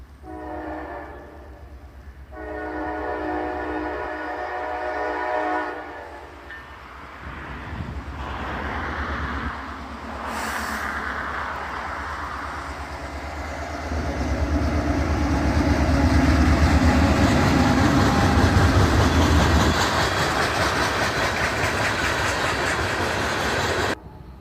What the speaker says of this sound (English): we caught a local CSX train going long hood forward